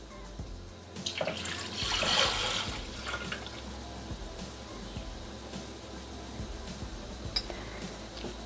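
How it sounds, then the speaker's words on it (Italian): Peach liqueur poured into a cooled mixture in a Thermomix bowl makes a soft, continuous trickling splash with a brief louder gush near the start, quiet and close. "adesso aggiungere il liquore."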